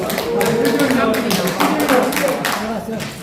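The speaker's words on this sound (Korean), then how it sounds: "큰 박수 주시죠" Audience clapping at a Korean forum's inauguration ceremony, a loud rapid patter of hands with a speaker's voice carrying over it throughout.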